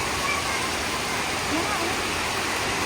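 Heavy rain pours in a steady, dense hiss close by, unbroken and fairly loud for the whole short stretch.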